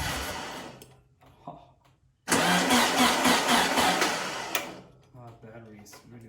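A 1957 VW 36hp engine, sitting for years, cranks and catches to a loud, rough, fluttering run lasting a couple of seconds before sputtering down, with quieter cranking and talk before and after.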